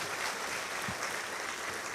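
Dense, steady applause from an audience at a comedy stage show, in honour of a monastery's seer, filling the space with continuous clapping at an even loudness.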